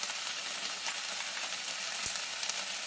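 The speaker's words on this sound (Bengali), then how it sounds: "এবার আমি এই চিকেনটার মধ্যে চিকেনটাকে দিয়ে পেঁয়াজের সাথে ভালো করে ফ্রাই করে নেবো" Chicken fries with onions in a pan, giving a steady hissing sizzle at an even level throughout, with one faint clink partway through.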